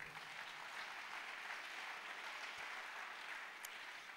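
A church congregation applauds together, a dense, even wash of clapping that holds steady for a few seconds at low level.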